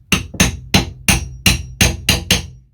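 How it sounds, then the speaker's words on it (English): A hammer knocks a cat paw nail puller under a nail head in eight sharp, close metallic strikes at a steady, quick rhythm, each ringing briefly before the next blow, with no talking. "you'll take your hammer and you'll knock it on the bottom"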